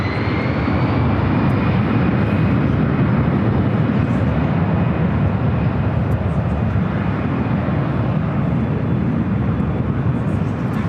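A Delta Airlines Airbus A319 jet taking off for Las Vegas, a loud continuous engine roar with a steady whine layered on top, holding strong and unbroken throughout at fairly close range.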